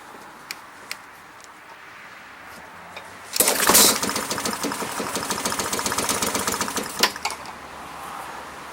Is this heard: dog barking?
no